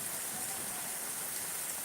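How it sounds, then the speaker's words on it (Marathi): Heavy rain falls in calm air in the eastern Miraj area, a thick unbroken roar of drops that stays level throughout, with no talking. "ब्रेक घेऊन ब्रेक घेऊन पाऊस जबरदस्त पडत आहे"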